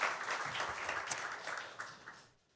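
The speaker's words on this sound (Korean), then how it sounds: "우리 하나님께 영광의 박수를 드리겠습니다" Congregation applause during a Korean church worship service, a dense burst of clapping that fills the room and then trails off to quiet within about two seconds.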